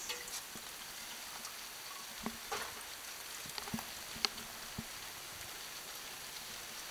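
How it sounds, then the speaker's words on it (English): Heavy rain pours down in a gale, a constant faint hiss of falling water with scattered louder drips and taps on nearby surfaces, no talking. "Pissing down with rain."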